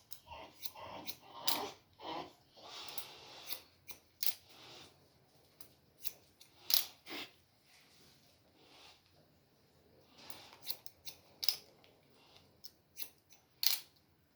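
Scissors snip a man's hair during a haircut in a series of sharp, close, irregular clicks, with quiet pauses between bursts of cutting.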